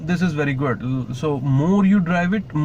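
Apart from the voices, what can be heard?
No distinct noise like a dog, phone or traffic.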